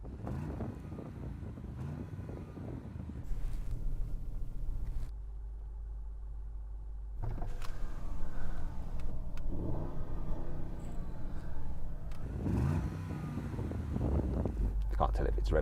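An Audi RSQ8 engine rumbles and revs at a distance, a low steady roar with people talking over it throughout.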